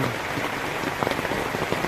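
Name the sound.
heavy rain falling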